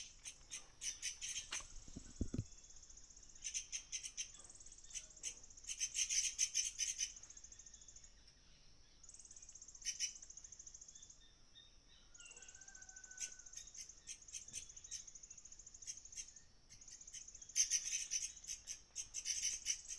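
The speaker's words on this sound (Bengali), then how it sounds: "খুব ভালো করে শোনো পাখির ডাকগুলো।" Insects and birds call in a Himalayan forest, with a high, shrill buzzing chorus in pulsing bursts and a few faint chirps, distant and quiet with no talking.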